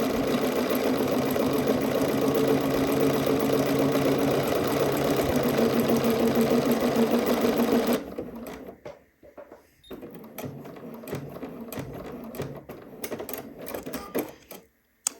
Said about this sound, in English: sew down until I get to the end of my mark here